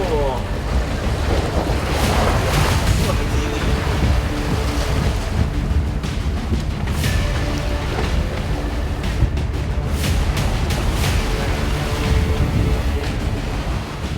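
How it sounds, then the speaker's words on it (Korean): Rough seas pound a fishing boat out on the water, with a continuous loud roar of surf and wind buffeting the microphone and occasional splashes and creaks throughout. "중심을 잡기 힘들 만큼 파도가 요동을 치는데요."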